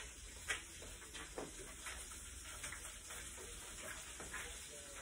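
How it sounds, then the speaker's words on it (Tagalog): A fish fries in a pan with a faint, continuous crackling sizzle and scattered soft pops, heard from a little distance with a low background hum. "Piprito ko ng isda."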